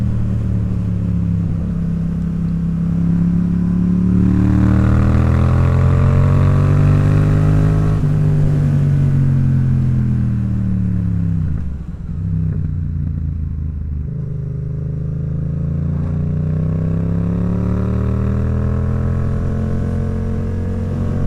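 Yamaha XSR700 motorcycle accelerating on Peak District roads in the UK, a loud close engine rising in pitch through the gears with a brief dip at a shift, then pulling hard again, no talking.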